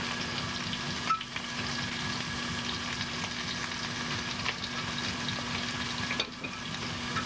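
Shrimp frying in oil in a hot pan, a steady dense sizzle running throughout, close and fairly loud, with faint stirring scrapes and no talking.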